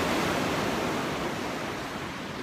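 Pacific Ocean waves roll in on the West Coast with a steady, dense wash of surf noise that fades slightly toward the end, with no talking.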